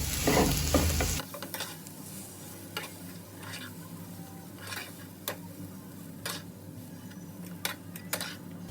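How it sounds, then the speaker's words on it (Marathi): Spiced potato filling for a dhaba-style Punjabi aloo paratha is mixed together. A louder burst opens the stretch, then soft scraping and scattered clicks from the stirring continue at close range with no talk. "आता सर्वांना एकत्र मिळवून घेते मी, एकत्र करून घेते"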